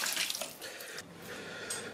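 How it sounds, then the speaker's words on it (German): Cold water running from a kitchen tap over fish fillets set to soak, a steady close hiss of flowing water with a slight splash at the start. "So, ich tue die jetzt einfach ein bisschen wässern. Mit kaltem Wasser."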